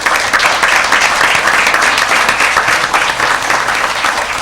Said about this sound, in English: So I think they deserve a round of applause for that.